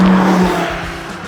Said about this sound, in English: The V10 packs a punch, but it also, packs a drone resonance at a certain RPM